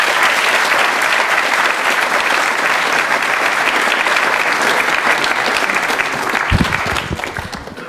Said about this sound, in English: So let's please clap these two gentlemen again.